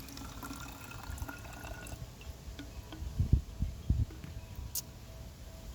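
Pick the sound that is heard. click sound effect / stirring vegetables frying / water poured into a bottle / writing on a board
water poured into a bottle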